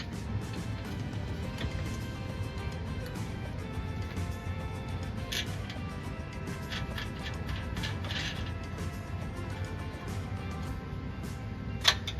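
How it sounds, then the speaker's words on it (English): Steady ratcheting clicks of a 3/8 wrench tightening a 1/4-20 bolt on a Mercedes Sprinter roof rack, a fast continuous mechanical chatter held at an even level throughout. "using our 3/8 wrench, we're going to now tighten the front to the rear section."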